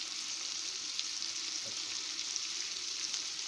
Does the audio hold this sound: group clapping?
no